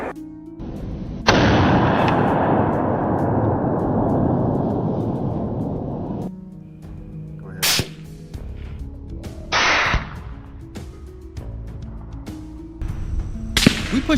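Loud close gunshots from hunters firing at wild boars, a long rolling blast with a sustained roar followed by several sharper, shorter reports and cracks spaced across the field.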